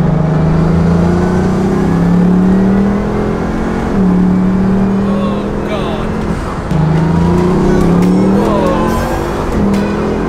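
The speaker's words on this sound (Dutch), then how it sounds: "die hoorden natuurlijk eerst twee keer een Bugatti voorbij flitsen en dan vol in de remmen" A Bugatti Veyron accelerates hard at high speed, its engine note climbing in repeated rising sweeps through gear changes, loud and close, with road and wind roar throughout.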